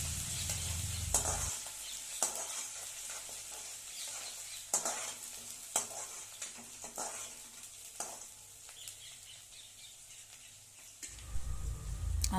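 Chili thecha is stirred into hot oil in a pan for a spicy brinjal bhaji, giving a steady close sizzle with repeated scraping stir strokes and louder frying bursts at the start and end.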